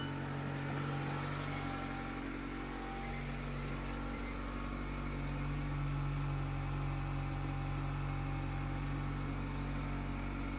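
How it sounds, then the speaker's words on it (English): A 2-liter four-cylinder Mazda MX-5 Miata idles steadily outside the car, a smooth, even low hum that holds constant throughout. "listening to the idle outside the car."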